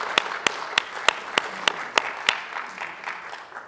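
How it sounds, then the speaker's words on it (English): Audience applause at an evening melanoma prevention program on Long Island: a run of sharp, evenly spaced claps that soften and thin out toward the end. "Let's give yourselves a round of applause for coming here tonight."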